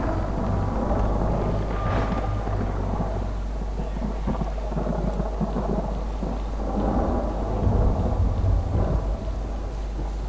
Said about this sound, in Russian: Да, гром тут вообще пиздец